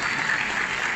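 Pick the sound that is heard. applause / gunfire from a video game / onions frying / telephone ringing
applause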